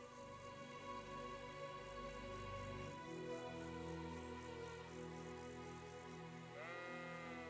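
Sheep bleating in the video game Kingdom Come Deliverance 2, a ram's repeated wavering bleats carrying clearly over a steady ambient game background.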